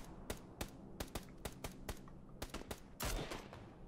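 Gunfire in PlayerUnknown's Battlegrounds: a fast, uneven string of sharp shots cracking out one after another, some close together like bursts, ending in a louder, denser blast.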